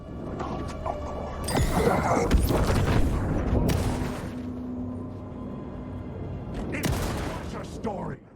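Shotgun blasts from the video game Alan Wake II, a few heavy booming shots spread over several seconds, loud and close against a rumbling background, with a voice speaking briefly.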